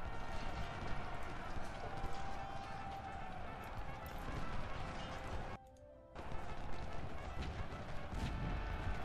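Cavalry horses gallop across the battlefield in the strategy game Ultimate General: Civil War, a dense, continuous rumble of hooves mixed with battle noise that briefly cuts out mid-charge.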